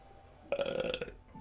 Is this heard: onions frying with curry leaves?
no